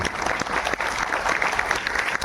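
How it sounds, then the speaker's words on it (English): A big round of audience applause for a General after a conversation event, dense continuous clapping throughout with some crowd murmur and a faint voice beneath. "a big round of applause for the General"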